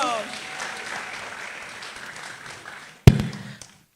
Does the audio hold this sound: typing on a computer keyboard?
no